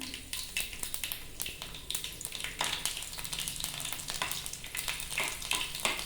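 Crushed garlic, onion and mustard seeds frying in hot oil for a Kannada-style greens and peanut curry: a steady, bright crackling sizzle with scattered sharp pops and some stirring, close and continuous, with no talk.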